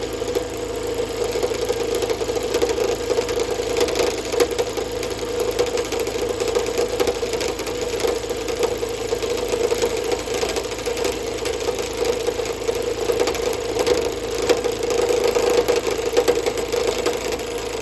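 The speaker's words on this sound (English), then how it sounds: "When you stop the lathe, the cutter stops." A wood lathe runs steadily while a Sorby RS 3000 cutter turns a piece of wood. There is a constant mid-pitched motor hum with a faint, even scraping on top and no pauses or talk.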